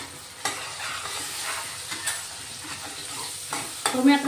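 A small pinch of asafoetida drops into hot oil for a tomato rassa bhaji, giving a soft, steady sizzle with a few light stirring scrapes and a brighter crackle near the end, no voices.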